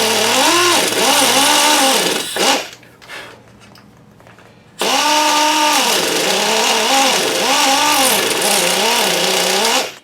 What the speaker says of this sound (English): There's a fresh 100 grit disc, and I am taking mostly glue off at this point.